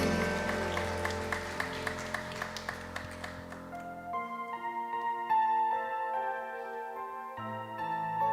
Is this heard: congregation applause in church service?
yes